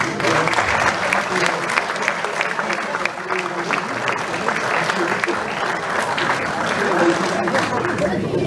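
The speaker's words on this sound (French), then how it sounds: "Bravo, hein, on peut vraiment les applaudir." An audience applauds at a sports awards evening in Barentin with dense, sustained clapping and crowd babble mixed in, steady and loud throughout.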